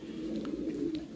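Lahori pigeons, including a blue checker, coo on a pigeon farm in a low, steady murmur that runs without a break, with soft, faint chirps now and then above it.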